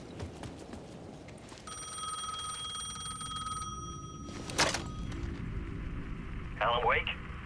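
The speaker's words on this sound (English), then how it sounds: "The payphone was ringing again." A payphone in the video game Alan Wake 2 rings with a steady electronic bell tone for a couple of seconds, set against a low ambient game soundscape with brief scattered noises.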